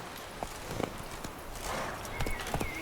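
Horse hooves clip-clopping at a walk in the video game The Witcher 3, a few soft irregular hoofbeats over steady game ambience.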